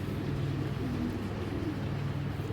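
A pigeon coos in soft, low, repeated murmurs, close by and steady over a faint background hush.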